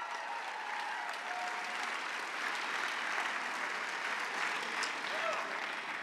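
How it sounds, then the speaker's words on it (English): An audience at a Texas A&M Athletics welcome celebration breaks into sustained applause and cheering, a dense, even roar of clapping that holds steady throughout. "Give yourselves a round of applause"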